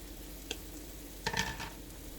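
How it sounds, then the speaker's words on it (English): Sausage sizzling in a frying pan: a soft steady crackle with a brief clink and a short burst of louder spattering, fairly quiet. "So, you add your sausage to the pan, alright?"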